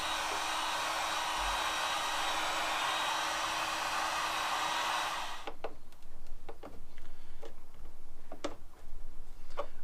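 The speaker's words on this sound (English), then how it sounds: "So what I'm going to do is I'm going to get the heat gun going." A heat gun blows steadily and loud on the black plastic edge of a Fiesta ST180 headlight to soften the sealant, then cuts off halfway through, leaving scattered small clicks and knocks.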